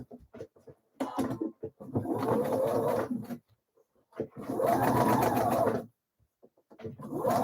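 A sewing machine stitches a pleat in the seam allowance in two sustained runs of whirring, separated by short pauses, and a third run starts at the end. The sound is close, with faint clicks between the runs.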